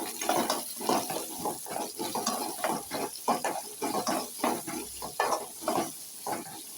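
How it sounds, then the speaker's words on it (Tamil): Chopped shallots and onions sizzle in hot oil in a pan while being stirred in repeated scraping strokes for a chutney, close and fairly loud with no talking. "நாலு ஸ்பூன் எண்ணெய் விட்டு நறுக்கி வச்சுருக்க சின்ன வெங்காயம் பெரிய வெங்காயம் ரெண்டுத்தையும் சேர்த்து நல்லா வதக்கிக்கலாம்"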